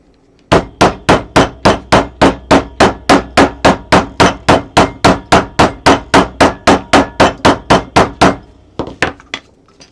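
A hammer strikes steadily on leather, about two dozen sharp, evenly spaced blows at a brisk rhythm, close and loud, then a few scattered lighter taps at the end.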